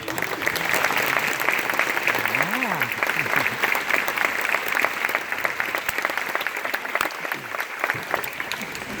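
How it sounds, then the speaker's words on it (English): Audience applause after a school orchestra concert, a sustained dense clapping from a large crowd that stays loud and even, with brief voices briefly audible beneath it. "So let's go and give a round of applause."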